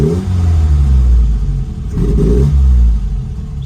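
A Lotus Elan being restomodded roars at full throttle, its engine note loud and sustained with a brief dip in the middle before surging again, no voices present.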